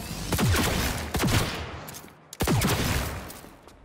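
Rapid bursts of gunfire in the video game Cyberpunk 2077, loud and close, with several volleys of shots and sharp reports across a dense, noisy firefight.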